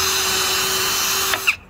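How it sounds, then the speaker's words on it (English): A power drill pre-drills screw holes into wooden furring strips for a shelf, its steady high whine running close and loud for most of the moment before it stops abruptly with a brief bump. "I like to pre-drill holes"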